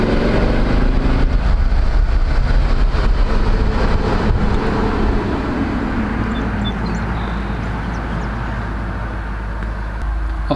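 Audi RS4 Avant B7 estate on the move, its engine droning loud and steady alongside heavy road and tyre noise. The sound eases slightly partway through and carries on without any talk.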